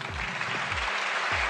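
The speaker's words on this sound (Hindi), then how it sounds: "आप सबकी वर्चुअल तालियों के साथ इनवाइट करते हैं हमारे टेक्निकल हेड रंजीत सर जी।" Applause greeting the technical head at an online product session, a steady wash of clapping hands filling the short moment with no voices over it.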